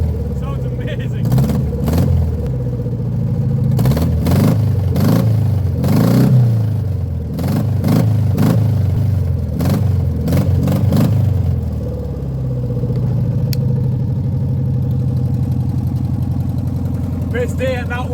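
A Volkswagen Beetle engine, left sitting since 1997, runs and revs in a series of loud bursts over a steady rumble, with people talking over it.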